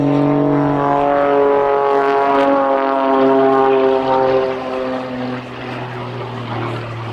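A Pitts S-2S aerobatic biplane at the Duxford air show, its engine and propeller droning loudly and steadily with a strong harmonic hum, easing slightly toward the end.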